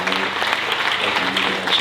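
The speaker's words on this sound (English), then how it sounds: "Can you clap hands for our pastors back in the line?" Church congregation clapping hands for their pastors, a dense, continuous burst of applause from a crowd that lasts the whole moment.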